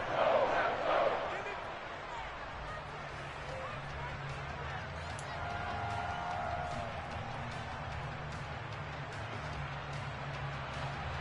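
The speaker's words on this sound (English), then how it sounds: "the crowd getting into it as we come up on a big third down" Football stadium crowd at a Green Bay Packers game roaring and cheering ahead of a big third down, a sustained distant wash of massed voices that swells after an opening burst, with an announcer talking over it.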